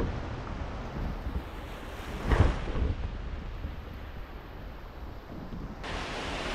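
Sea waves washing in at Korlai Fort near Alibag on a rising tide, a steady surf wash mixed with wind buffeting the microphone and one louder surge near the middle; no one speaks.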